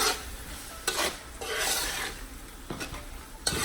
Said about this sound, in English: So all that seasoning and the oil. So you stir that in there.